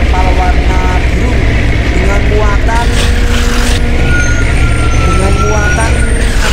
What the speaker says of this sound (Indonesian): Nah, ini kita sekali-kali pakai truk trailer ya.